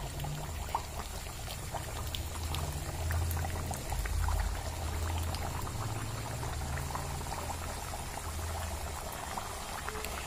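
A batch of about a dozen masala mathi pastry pieces deep-fries in hot oil, giving a steady, dense bubbling sizzle that stays at a moderate level throughout, close by and with no talk.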